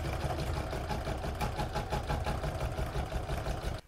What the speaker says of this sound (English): I'm going to pop that back into my machine and stitch round number 7.